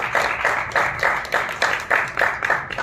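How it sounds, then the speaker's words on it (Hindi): An audience at a director's talk in a Chandigarh theatre applauds the speaker with a run of fairly loud, regular claps in a quick, even rhythm, close by and without talk over them. "एक बार जोरदार तालियां सर के लिए।"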